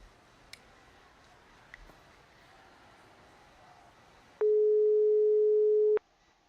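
A steady electronic phone tone in the point-and-click adventure game Broken Sword 2 sounds for about a second and a half, loud and alone, after quiet faint ticks.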